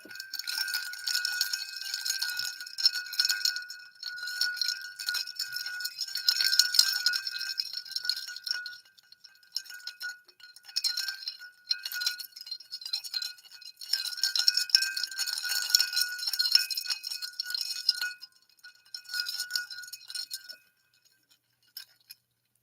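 Wind chimes tinkle continuously in a bright, high, ringing shimmer, swelling and fading in waves over a long stretch before falling silent at the end.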